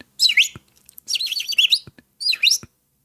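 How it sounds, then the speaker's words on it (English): Pet birds indoors give three short bursts of high, bright chirping and twittering, close and clear, separated by brief quiet gaps. "Used to always hear birds in the background."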